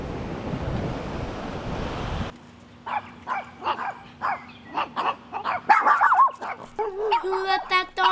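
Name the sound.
dog barking on a beach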